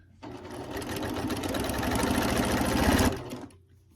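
A sewing machine stitches a run of quilting across a quilt, its motor ramping up into a rapid close whirring chatter for about three seconds before winding down and stopping.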